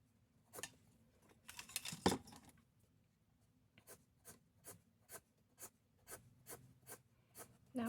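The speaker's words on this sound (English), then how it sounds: "cardstock paper and a basic number 2 pencil" A basic number 2 pencil scratches across cardstock paper in quiet, close rasping strokes, a dense burst of scribbling early on, then a steady run of short, evenly spaced strokes.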